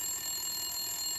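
A phone rings in Resident Evil: Shadows of Rose, a steady high electronic tone held without a break over a quiet background.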